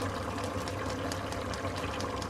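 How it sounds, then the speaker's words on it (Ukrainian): Water pours steadily into a hot pan of garlic and chicken gizzards, a loud, continuous close-up rush and sizzle with no break. "Одразу додаю води, щоб не горів чесник."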